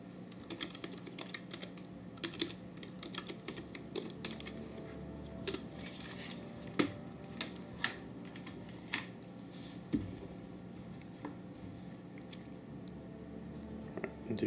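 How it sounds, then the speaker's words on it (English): Someone types on a computer keyboard in a quiet room, with soft, irregular clicks and an occasional louder keystroke over a faint background hum. "Just type that in."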